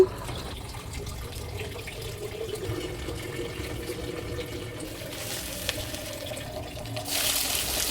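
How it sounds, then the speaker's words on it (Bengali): Nigella, cumin and panch phoron sizzling in hot oil in a kadai, a continuous soft hiss like running water, steady throughout and swelling slightly brighter near the end. "এখন কড়াইতে তেল দিয়ে কালো জিরা, জিরা আর কিছু পাঁচফোড়ন তেলের মধ্যে ফোড়ন দিয়ে নিচ্ছি"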